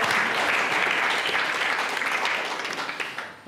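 An audience at an architecture evening event applauds Cristiana, a steady dense wash of many hands clapping that tapers off toward the end.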